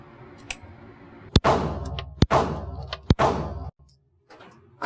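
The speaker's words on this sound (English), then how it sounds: "I'm shooting a brand new gun." Three loud gunshots from a brand-new handgun boom at an indoor shooting range, spaced under a second apart, each followed by a long echoing decay through the enclosed room, then a quiet pause before faint clatter.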